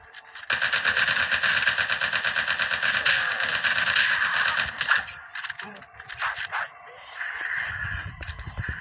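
Sustained automatic machine gun fire in a zombie mode raid of a shooter video game, rapid continuous bursts filling the first five seconds, then broken shots and game effects trailing off with a brief voice.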